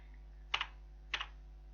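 Two quick keystroke pairs on a computer keyboard while entering an amount in Tally ERP 9 accounting software, crisp and close over a quiet room hum, spaced about half a second apart.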